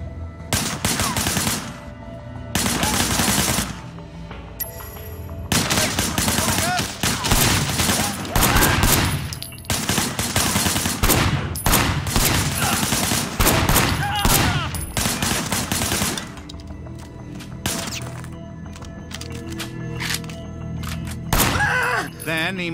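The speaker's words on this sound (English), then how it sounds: "Shooting at the guys over there." Gunfire in the video game Sleeping Dogs, with loud bursts of rapid automatic shots and scattered single cracks coming in uneven clusters over about twenty seconds, some glass-like shattering, and brief gaps between volleys.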